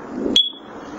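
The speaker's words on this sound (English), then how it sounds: "There's the chirp." A First Alert carbon monoxide detector gives a single short, sharp high-pitched chirp when its test button is held, close and loud in a quiet room.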